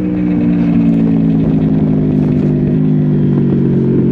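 A 2012 Honda Crossrunner 800 motorcycle engine runs steadily while riding, a loud continuous mid-pitched drone with a slight rise in pitch, heard alone without voices.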